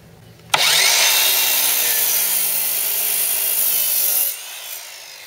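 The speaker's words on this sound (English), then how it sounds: "Take two of your worst 2x2s and cut a foot off the end of each one." A power saw cuts a foot off the end of a 2x2 wooden board. One continuous, loud, close whining cut starts abruptly and stops after about four seconds.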